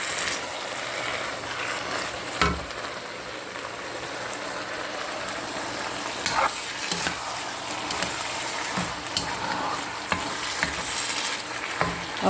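Beef giniling sizzles steadily in a pan, with occasional scraping stirs and clinks of a utensil cutting through the constant close frying hiss.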